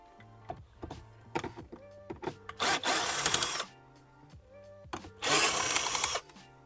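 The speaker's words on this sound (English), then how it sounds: "we're gonna go ahead and remove some more T15 screws" A power driver backs T15 screws out of the dashboard of a 2019-2023 BMW X5: two sustained whirring bursts, each about a second long, with scattered clicks and light knocks of trim and tool handling between them.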